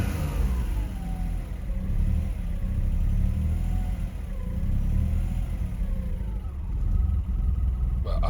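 An Audi car engine idling roughly, a loud, close, low rumble with an uneven, lumpy pulse and slight swells in speed, running steadily with no talking over it.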